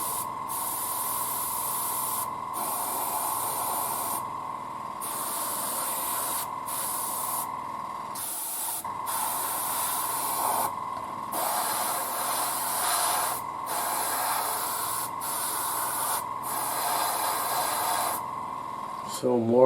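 An airbrush spraying satin white paint onto a 1:35 scale KV-2 tank model for winter camouflage, a steady close hiss broken by short pauses and bursts, with someone talking over it.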